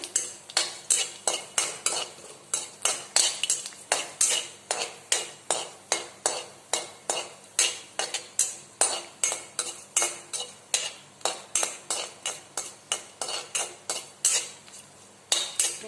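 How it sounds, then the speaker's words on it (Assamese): Dried chili frying in a pan while a utensil scrapes and stirs it, giving a steady run of sharp, rhythmic metallic scrapes with faint sizzling underneath and no talking. "শুকান জলকীয়াটো অকমান ভাজা হৈ লওক"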